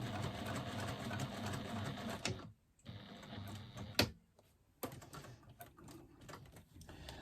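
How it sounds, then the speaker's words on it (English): Sewing machine back stitching and top stitching, short bursts of rapid mechanical clatter broken by pauses and sharp clicks, close but quiet, with no talk. "just to do one back stitch at the beginning and the end of my top stitching"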